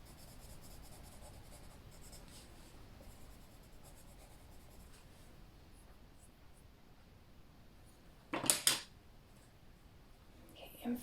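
A colored pencil burnishes across paper in quiet, faint scratchy strokes, with a brief louder burst of rubbing near the end and soft talk nearby.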